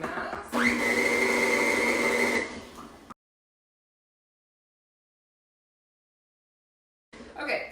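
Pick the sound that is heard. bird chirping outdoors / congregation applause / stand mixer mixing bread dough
stand mixer mixing bread dough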